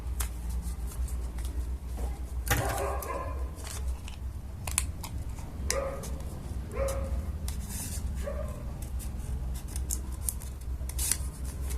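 Scissors snip through paper while cutting eye holes in a handmade paper puppet mask, giving repeated short cuts over a steady background hum, with a dog whimpering and yipping faintly in the room.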